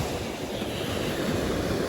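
Sea waves wash onto a beach in a steady broad roar of surf, close and continuous, mixed with some wind noise.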